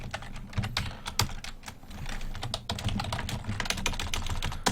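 Rapid, uneven typing on a computer keyboard set off to one side during an online World War II game, a close, continuous patter of key clicks with no talk.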